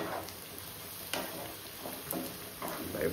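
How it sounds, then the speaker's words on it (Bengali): Onions fry in oil in a pan, giving a soft, steady sizzle with light crackles and occasional stirring scrapes, fairly quiet and heard alone. "এবার ভালো মতো পেঁয়াজটাকে আগে ফ্রাই করে নেব"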